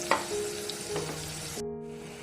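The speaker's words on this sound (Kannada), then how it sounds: "ಹಸಿಮೆಣಸಿನ್ಕಾಯಿ 1-2 ನಿಮಿಷ ಹುರ್ಕೊಳ್ಳೋಣ ಸಣ್ಣ ಉರಿಯಲ್ಲೇ" Green chillies frying in oil on a low flame, a close, even sizzle with a couple of soft clinks, cutting to a quieter crackle near the end.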